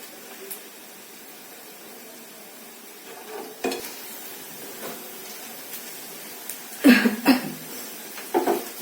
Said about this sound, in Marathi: कांदा चांगला लालसर भाजून घ्यायचा आहे